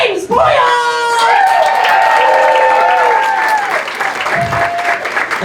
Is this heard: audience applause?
yes